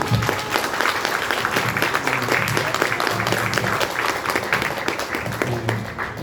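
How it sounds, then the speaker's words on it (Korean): A church fellowship audience at a Christian business group gathering applauds in a steady, dense wash of clapping that fills the room from start to finish, loud and continuous with no voices standing out. "은혜 받은 만큼 박수 보내겠습니다."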